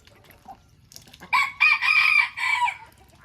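A native country chicken calls loudly in a few drawn-out, strained bursts, close by at a rural resort, with a soft rustle before it and no talking.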